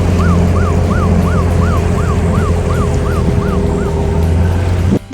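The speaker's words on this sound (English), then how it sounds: "Turns out the sirens were a false trigger on our anchor alarm." A rapid warbling electronic siren from a sailboat's anchor alarm, falsely triggered, whoops repeatedly over a loud engine rumble, then cuts off abruptly near the end.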